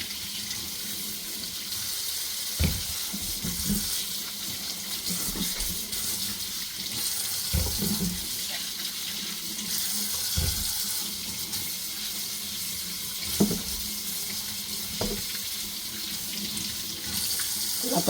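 Steady running tap water splashes into a sink for the whole stretch while green bananas are washed, with occasional clunks and knocks of the bananas being handled under the stream.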